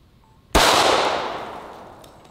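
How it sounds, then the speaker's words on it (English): A single sharp 9mm hollow-point gunshot from a Gen 5 Glock 19 cracks after a quiet moment outdoors, loud and close, then rolls away in a long echo that fades across open ground. "The round we're shooting is a 9mm hollow point"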